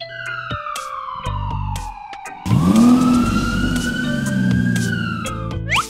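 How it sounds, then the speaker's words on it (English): A video game ambulance siren wails in an Among Us style game, its tone sliding steadily down and then back up, loud and close, with a low rumbling engine layer joining halfway through. "Ambulance."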